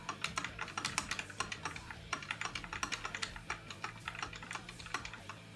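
Rapid clicky clacking on computer keyboard keys, a steady stream of close, sharp keystrokes with uneven rhythm and no talking.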